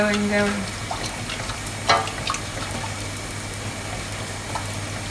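A whisk or spoon stirring a thickening plain-flour sauce for vegetable lasagna in a pan, soft scraping and bubbling with a few clinks against the pan, fairly close and steady.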